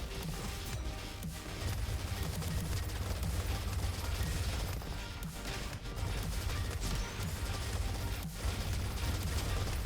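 Rapid gunfire with small chained explosions in the video game Roboquest, a dense, continuous barrage of shots and pops that runs loud and unbroken throughout.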